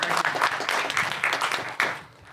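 Brief, dense applause from a conference audience at a community tech day keynote, celebrating book prize winners, close and fairly loud before trailing off.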